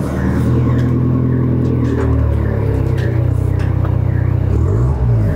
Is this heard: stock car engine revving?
yes